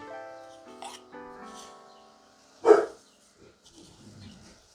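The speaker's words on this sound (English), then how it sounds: "Dogs barking." Dogs in a home kitchen bark, one sharp loud bark standing out among softer yips and whimpers, with fainter background sounds in between.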